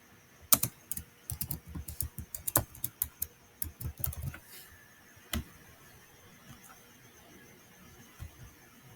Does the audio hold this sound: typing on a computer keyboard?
yes